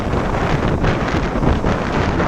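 Strong wind on a cruise ship near the Bahamas on a rough sea day buffets the microphone in a steady, roaring rush with constant low rumble, no voices, loud and close throughout.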